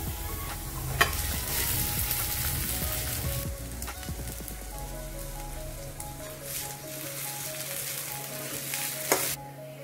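Sabudana (tapioca pearls) fries in a pan with roasted crushed peanuts, a steady close sizzle with scraping stirs and occasional clinks, loud and continuous without talk.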